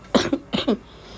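Four short, harsh coughs close by, coming in two quick pairs with a brief pause between them, and no talking around them.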